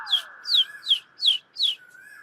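A small bird chirps five times in an even rhythm, high and clear, followed by a faint whistle-like tone, with no voices.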